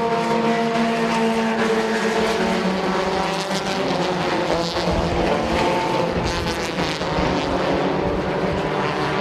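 Race cars roar around a speedway track in a tight pack at the Speedzone, a loud, continuous layered engine drone with shifting pitches as cars pass close by.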